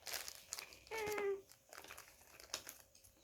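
Plastic Chiikawa gacha toy packaging being torn open makes faint, brief crinkling and rustling bursts, with a short squeaky tonal scrape in the middle and scattered small crackles.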